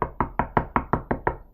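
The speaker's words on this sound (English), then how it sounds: "You are now knocking on" Eight even, crisp knocks on a door sound in quick succession, each a firm rap with a short decay, fairly close against a quiet background.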